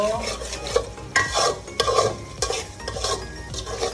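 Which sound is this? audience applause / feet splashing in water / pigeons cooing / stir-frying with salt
stir-frying with salt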